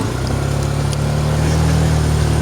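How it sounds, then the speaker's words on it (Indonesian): A friend's motorcycle engine labours steadily uphill through a durian forest on Mount Argopuro, a continuous strained drone close by with no letup. "Motor teman saya sampai gak kuat."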